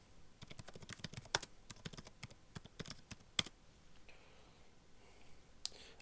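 Quick bursts of clicking keystrokes on a computer keyboard, someone typing a search for a Python download, then fading to a few isolated taps; close and fairly quiet, no speech.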